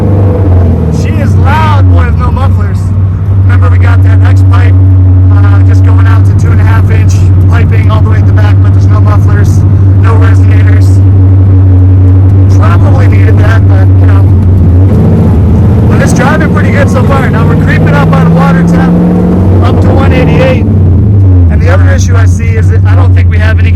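A V8 engine in the Solstice Death Kart drives with no mufflers, its exhaust running through an X pipe. A loud, continuous low rumble rises and falls with throttle through a subdivision, and someone talks over it.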